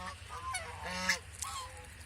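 Farm ducks kept for eggs give a few honking, nasal calls close by, in short separate bursts over a quiet background.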